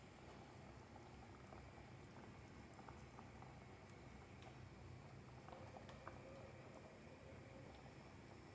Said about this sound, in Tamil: மீன் குழம்பு நல்லா சுண்டி வந்துடுச்சு. இப்போ நல்லா கொதிக்குது.